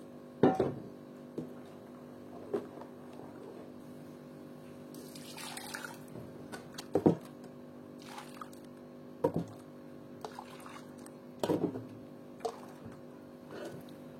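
Water is poured into a small container while making homemade apricot juice, with short splashes and knocks of the vessel spaced several seconds apart over a quiet, steady hum.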